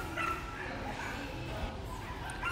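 Belgian Malinois puppies, red-black in coat, bark and whimper with small yips close by, a steady busy murmur of activity behind them throughout.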